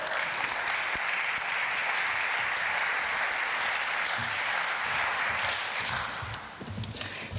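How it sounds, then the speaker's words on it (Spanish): An audience at an urban thinkers' campus session on recovering a piped river applauds to welcome a speaker, a steady moderate clapping that thins slightly near the end. "La recibimos con un aplauso, por favor."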